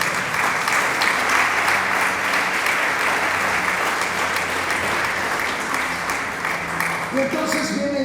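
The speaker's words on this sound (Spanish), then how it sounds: "Dele palmas al Señor." A church congregation claps for the Lord in sustained, even applause that carries on for several seconds, with faint voices mixed underneath toward the end.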